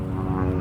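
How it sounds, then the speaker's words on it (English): A small amphibian toy airplane that can land on water flies at the Sun 'n Fun 2023 aviation event, giving a brief, steady propeller drone that is fairly loud and close. "It's a cool little toy airplane you can land in the water."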